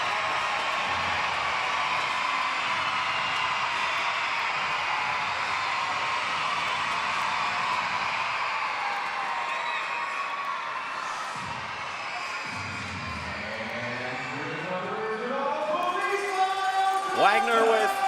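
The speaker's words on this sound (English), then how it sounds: "And the crowd trying to spur on their team." An AHL hockey arena crowd at a Providence Bruins versus Springfield Thunderbirds game keeps up a steady murmur of cheering under continuous play-by-play commentary, with a rising organ-like tune toward the end.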